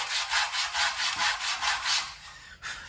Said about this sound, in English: So I'm gonna sand this down now.